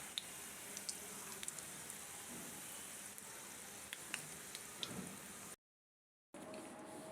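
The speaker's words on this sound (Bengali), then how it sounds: "হালকা জাল দিয়ে ধীরে ধীরে ভেজে নেবেন" Chokobin singara frying slowly in oil over low heat, a soft, even sizzle with faint bubbling pops, broken by a brief silent gap.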